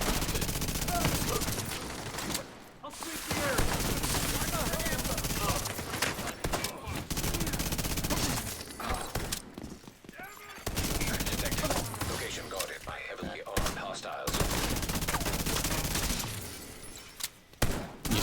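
Rapid automatic gunfire in The Division 2 while killing an enemy player and his turret, dense sustained bursts broken by brief pauses, loud and close, with a voice talking at times.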